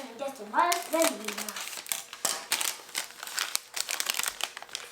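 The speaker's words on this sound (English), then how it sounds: "opening up her snacks in the background, making noise." Plastic snack wrapper crinkling in bursts of sharp rustles, with a voice briefly at the start.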